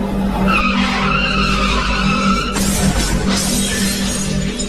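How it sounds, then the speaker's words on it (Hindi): A car speeding along a remote road in Himachal skids out of control and crashes into a tree, a loud sustained tire skid followed by a harsh burst of impact noise, heard alone with no talk. "गाड़ी के सामने कुछ आने की वजह से गाड़ी अनियंत्रित होकर सामने लगे पेड़ से जा टकराई"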